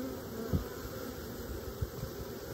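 Honey bees in an open hive make a dense, continuous close-up buzz, with a couple of soft bumps underneath.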